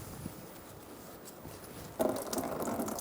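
Fluid pours out of the drain after the plug is removed on a 2004-2009 Mazda 3 during AC condenser replacement. A low steady trickle swells into a louder splashing stream partway through, close by with no talk.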